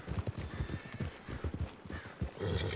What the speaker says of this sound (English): I really want to jump to your horse, Clementine.